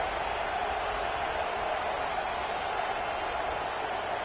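A dense, roaring wash of stadium crowd noise fills the air at a football game after a big punt return, steady and loud with no pauses across the whole stretch.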